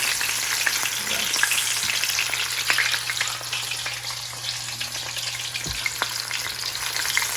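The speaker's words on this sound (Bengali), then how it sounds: "এবার একে একে মাছগুলো সব ভেজে নেবো প্রথমে দিয়ে দিচ্ছি মাথাটা খুব সাবধান কারণ তেলের ছিটা এসে পড়বে" Pieces of aar catfish fry in hot oil with a loud, continuous close sizzle and crackle, and an occasional light knock against the pan.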